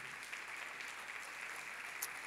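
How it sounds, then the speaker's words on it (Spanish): A church congregation gives visitors a steady round of applause, a dense and even wash of clapping that is fairly faint and sustained throughout. "Un aplauso a estas personas, claro que sí."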